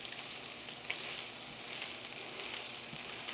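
A heaping tablespoon of garlic fries and browns in a pan, giving a steady close sizzle with a few faint pops and no talking.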